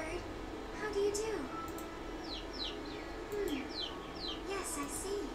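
Bird coos from the Fire Emblem Three Houses game, a few soft repeated warbling calls over steady background music and ambience, with occasional higher chirps.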